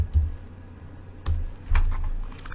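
Three quick bursts of keystrokes on a computer keyboard, close and crisp, separated by short pauses in an otherwise quiet room.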